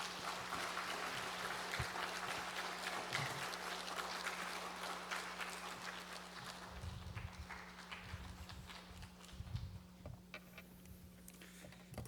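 A church congregation at a Friday evening prayer service claps to welcome a pastor to the pulpit, a steady, fairly quiet, even wash of applause that lasts throughout and thins slightly toward the end.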